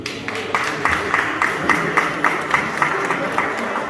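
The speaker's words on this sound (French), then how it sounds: "Veuillez l'applaudir s'il vous plaît" Guests at a gala thank-you dinner applaud a speaker taking the floor, a steady rippling of many hands with some distinct nearby claps repeating in a loose rhythm throughout.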